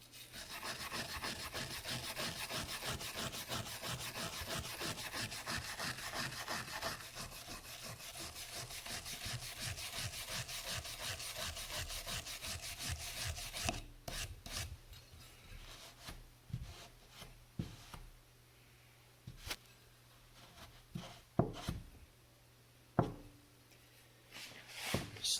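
A brush scrubs crud off cleaned metal parts in fast, rhythmic rasping strokes, close and steady for a long stretch, then breaking into scattered scrapes and a few sharp knocks.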